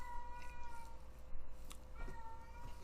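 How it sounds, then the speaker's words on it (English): A female cat in heat meows and yowls several times indoors in a hallway, with drawn-out cries over a steady low background hum, moderately loud and close. "That's my cat. She's in heat right now,"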